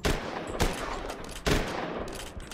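Gunfire in the video game The Last Stand: Union City: two sharp, loud shots spaced about a second apart, each with a short echoing tail over a dense game backdrop.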